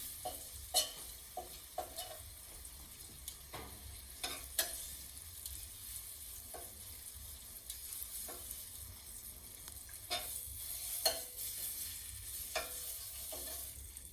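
Meatballs fry in a pan with a steady low sizzle, broken by repeated short scraping knocks of tongs against the pan bottom, fairly quiet and with no voices.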